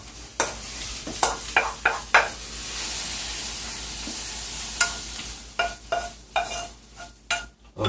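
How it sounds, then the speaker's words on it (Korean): Webfoot octopus with vegetables stir-fried in a pan, a steady close sizzle broken by repeated scraping and clacking strokes of a utensil stirring against the metal. "숨이 죽을 때까지 하시면은 쭈꾸미 볶음이 완성이 됩니다."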